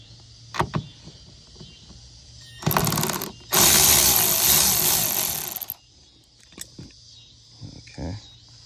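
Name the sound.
removing bolts from a 2013 Hyundai Sonata quarter glass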